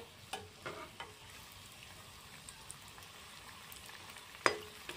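Egg chops fry in oil over a very low gas flame, a soft, steady, close sizzle punctuated by a few sharp pops and one louder crackle near the end, with no talking.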